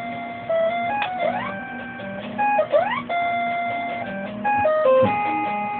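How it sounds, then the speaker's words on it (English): Chiptune music made of beeping tones and rising pitch sweeps, jumping abruptly between snippets as if cut and spliced together. "it actually sounds worse when it's edited, because then it's all chopped up"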